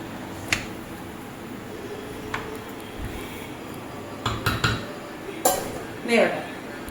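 Short metallic clinks and taps of a lid being set on a pot of breadfruit curry, a few scattered knocks over a quiet kitchen background.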